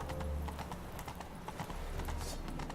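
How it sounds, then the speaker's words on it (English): Horse hooves clip-clop at a steady walking pace in the video game The Witcher 3, each footfall a sharp knock over a low background rumble, with no talk. "that's my horse, right?"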